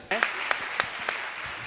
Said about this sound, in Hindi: अनवरत तालियां रहना चाहिए बंधुओं